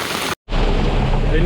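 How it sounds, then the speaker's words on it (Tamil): Steady, dense roar of heavy rain during a storm in Jaffna, with a brief drop to silence near the start, then continuous loud wash; a voice is faintly present. "மழை அதிகரித்து கொண்டே இருக்குது"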